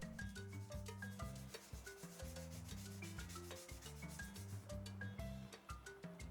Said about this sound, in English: Dip your paper in the water and keep on sanding until it's nice and smooth.